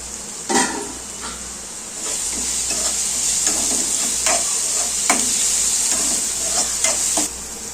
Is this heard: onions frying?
yes